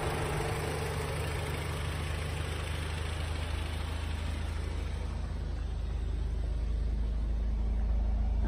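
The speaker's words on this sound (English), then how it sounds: "Car ticks over beautifully." An Audi TT engine idles smoothly, a steady low rumble with an even mechanical hum that holds constant and close for the whole stretch, with no voices.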